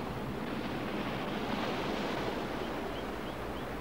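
Stormy sea surf and gusting wind on a beach, a steady loud roar of breaking waves and blustering air with no talk.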